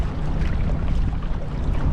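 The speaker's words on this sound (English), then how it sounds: "We're in some pretty stiff wind." Stiff, steady wind of about 15 mph gusts across a lake while kayaking in an inflatable kayak, a loud close rushing roar with water lapping, no voices.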